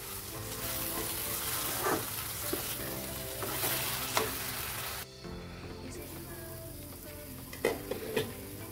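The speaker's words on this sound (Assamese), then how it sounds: "মিক্স কৰি দিম।" Amaranth stick curry with spiced masala water sizzling and frying in a pan while being stirred, a steady broad hiss with occasional scraping clinks of the spoon, close and continuous.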